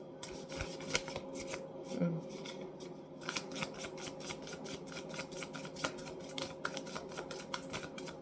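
A deck of tarot cards is shuffled in a rapid series of riffling, flicking bursts with short pauses, close and fairly loud, while people talk in the background.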